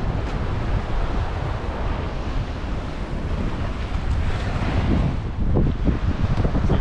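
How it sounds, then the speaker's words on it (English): Strong, blustery wind buffets the microphone at a beach on Grand Cayman, a loud, constant roar blended with surf washing in, with no voices over it. "It's a very blustery day, but a beautiful day."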